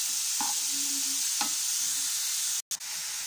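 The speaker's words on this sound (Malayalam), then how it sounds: "നല്ലതായിട്ട് ഇളക്കി കൊടുക്കുക ഒന്ന് വാടണം" Grated carrots for carrot halwa cooking in a pan, a steady close sizzle with a few distinct stirring scrapes and one brief dropout near the end.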